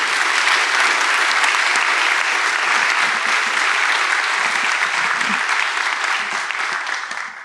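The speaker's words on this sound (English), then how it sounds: "let's give a round of applause to these fabulous authors" An audience claps for a panel of authors at a climate talk, a dense, loud, sustained round of applause that tapers slightly at the end.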